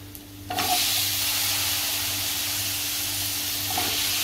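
Raw potatoes for methi batata bhaji land in a hot pan with a sudden loud sizzle, then keep hissing steadily under light stirring scrapes; no one speaks.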